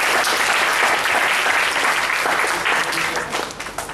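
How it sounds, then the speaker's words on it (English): An audience at a college programming club event breaks into loud, dense applause that holds steady for several seconds before tapering slightly at the end. "Let's give a round of applause."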